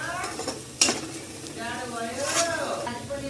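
Food stirred and fried in a pan for a Nepali chicken palak, scraping and sizzling close by with a sharp utensil clank early on, while a voice talks over the cooking.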